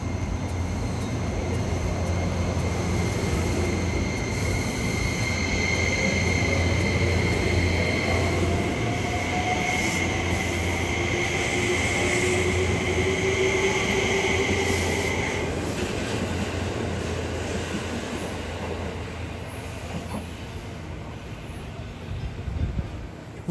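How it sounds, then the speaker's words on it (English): Saphir Odoriko E261 series electric train pulls away from Atami Station, with rising motor whine and a steady rolling rumble that builds, then slowly eases as it gains speed. "the Saphir Odoriko powers up and pulls away from Atami Station"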